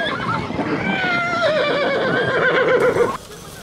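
Horses whinny repeatedly and loudly at an amateur winter race for mongrel horses, held on sleds and under riders, with long wavering neighs filling the whole stretch before cutting off abruptly near the end.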